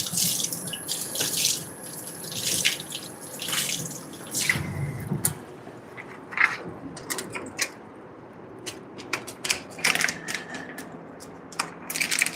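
Water running from a tap over an object held under the stream, a steady splashing wash with brief clicks and knocks of handling, close and fairly loud with no talk.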